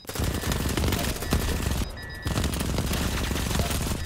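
Rapid automatic gunfire from a weapon in the video game BattleBit, a dense continuous burst of loud shots with only a brief pause, close and dominant without speech.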